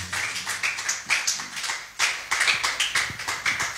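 A church congregation claps in praise, a fast rhythmic burst of many hands striking together, close and lively, without voices on top.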